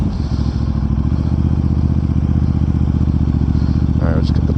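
A 2021 Aprilia RS 660 motorcycle fitted with an aftermarket full exhaust idles loud and close, a steady pulsing rumble throughout with a brief light clatter near the end.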